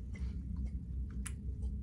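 Soft crunchy chewing of a Scandinavian sweet snack with real hazelnut pieces, a few faint close bites and crunches in a quiet setting.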